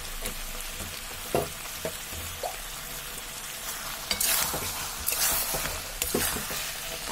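Dried lotte fish fries in a curry with malabar spinach seeds and is stirred in the pan. The close sizzle is soft and steady, with sharp scraping clinks at irregular intervals and no talking.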